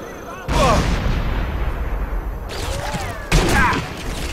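Gunfire from the Sniper Elite 3 video game in the In Shadows DLC, with loud sharp reports echoing, one at about half a second and another near the end, over a continuous rumbling game soundscape.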